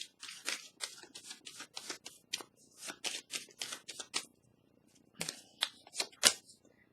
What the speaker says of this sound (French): Là, je vais déposer une carte ici.